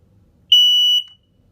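A 2006 Kidde 0915 smoke alarm gives one loud, piercing horn blast lasting about half a second, close up and alone in a quiet room.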